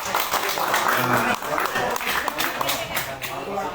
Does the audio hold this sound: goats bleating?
no